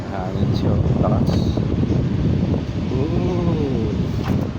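A Hanabishi HAC-1200 electric fan blows a steady, close airflow hiss with low rumble, running continuously, with faint background voices.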